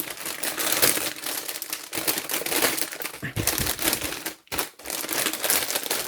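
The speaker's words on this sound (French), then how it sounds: "Je range les fils, ça va faire un peu de bruit" Embroidery threads for cross-stitch being sorted and put away, a close continuous rustle and crinkle of plastic packaging and paper with brief pauses and sharp crackling bursts, no talking.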